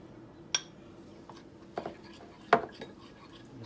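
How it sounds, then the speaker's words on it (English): A spoon stirs a cornstarch-and-water slurry in a bowl, giving a few sharp, separate clinks against the dish with quiet gaps of room tone between them. "Give it a little stir."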